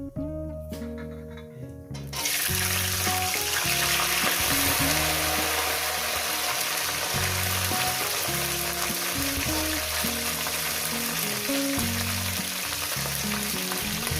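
Long beans dropped into hot oil already sizzling with cumin seeds, the quiet pan bursting into a loud, steady, close frying hiss that holds for over ten seconds over a low background hum.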